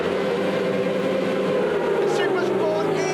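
Kawasaki Supersport race motorcycles at the Phillip Island GP Circuit starting line, engines holding a loud, steady high-pitched drone that climbs slightly as revs rise, with a voice talking over it.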